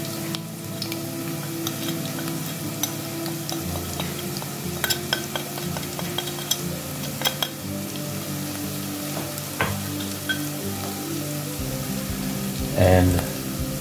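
Spices, starting with turmeric, fry in a pot of oil for a Durban mutton curry, giving a continuous close sizzle broken by scattered clinks and stirring scrapes, with a louder burst of frying near the end.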